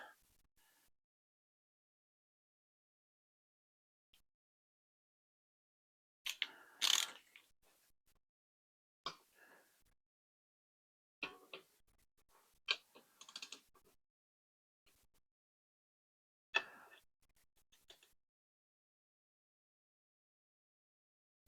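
A torque wrench tightens small bolts on the hot side of a rebuilt Chevy Colorado 2.8L Duramax turbocharger, giving scattered quiet ratcheting clicks and metal taps in short clusters separated by long silences.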